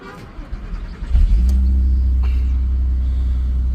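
An Audi TT 8N with the 3.2 engine cranks over briefly on a booster pack and catches, settling into a loud, steady, close idle rumble that holds after the start, while a voice speaks over it.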